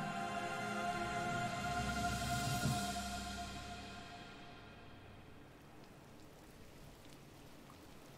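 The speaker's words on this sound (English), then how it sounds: "It's raining." Steady rain hisses in the video game Gris with a faint sustained tone underneath, and the downpour gradually fades quieter toward the end.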